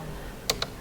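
Two sharp clicks of computer keyboard keys, the second pressing Enter, sound quick and close in a quiet room, each a crisp isolated tap.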